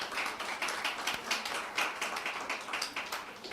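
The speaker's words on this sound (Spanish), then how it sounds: "Aplausos." Audience applause during a Spanish-language sermon on Parashá Ki Tisá, a steady patter of many hands clapping at moderate level throughout, with no talk over it.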